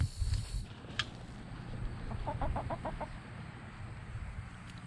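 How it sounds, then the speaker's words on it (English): Homestead chickens cluck nearby in a quick run of short, rhythmic calls, preceded by a low rumbling handling noise and a brief sharp chirp, with quiet outdoor background. "crazy chickens"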